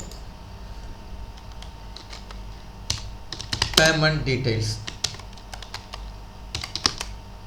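Scattered keystrokes and clacks on a computer keyboard while entering invoice details in an Excel spreadsheet, a close, uneven series of taps heard under a voice speaking Tamil.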